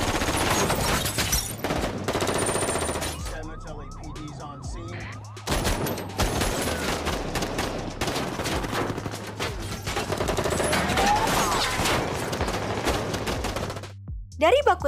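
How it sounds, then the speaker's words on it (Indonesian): Rapid bursts of gunfire crackle through a chaotic film shootout involving police, with a wailing siren and shouted voices mixed in. "Baku tembak pun terjadi."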